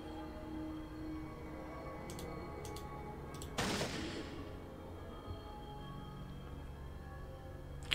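Gunfire in the 1997 video game Fallout 1: a few sharp, quick shots over a steady ambient game drone, followed by one louder, fuller blast that fades out, with no talking.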